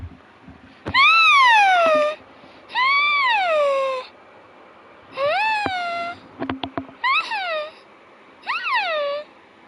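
A pet cat named Scoofy meows repeatedly and loudly close by, about six drawn-out rising-and-falling meows with short gaps between, plus a few soft taps in the pauses.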